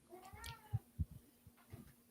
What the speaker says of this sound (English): I hear Bubba meowing